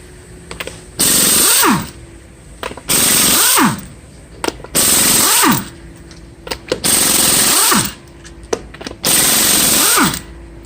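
Impact wrench loosening the 19 mm lug nuts on the front wheel of a Dodge Avenger or Chrysler 200, five loud, close bursts of buzzing hammering, each a second or so long, separated by short pauses with clinks.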